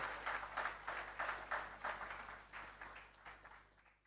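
Audience applause at a CXC regional top awards ceremony in St Lucia, a faint, distant patter of clapping in rhythmic swells that fades away at the end.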